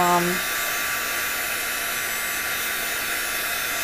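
A heat tool blows steadily to dry freshly spritzed craft pieces, a constant loud whooshing hum that runs unbroken from a brief moment of voice at the start.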